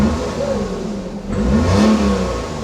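A Suzuki Alto VXR automatic's engine runs close by, holding a steady hum and then revving up in a few smooth rises before settling again.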